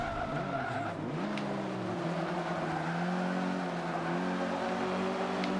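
A rear-wheel-drive race car in Forza Motorsport 5 drones at sustained engine pitch with shifting tones and tire squeal as it slides through a turn, steady and fairly loud.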